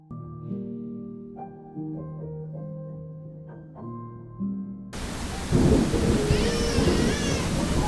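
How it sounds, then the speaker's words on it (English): Steady heavy rain with rolling thunder swells in, loud and dense, after a stretch of sustained musical tones. "It's raining so heavily"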